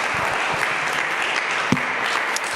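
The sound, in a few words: congregation applauding in church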